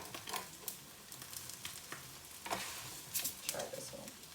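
Pancakes frying in a pan at home, a steady close sizzle with soft scraping and stirring-like clatter, no talking.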